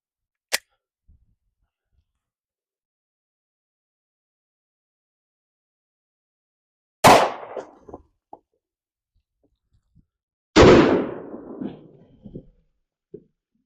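Two sharp, loud gunshots from a .45 ACP pistol firing Winchester Ranger T Series 230-grain +P rounds, several seconds apart and each with a short decaying tail, in an otherwise quiet outdoor setting with a faint click before.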